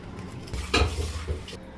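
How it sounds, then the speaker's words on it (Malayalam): Jackfruit pieces dropped into a pressure cooker, a short muffled clatter of chunks hitting metal with a small thud, then a softer second knock, quiet overall. "ഇനി നമുക്കത് കുക്കറിലേക്ക് ഇടാം."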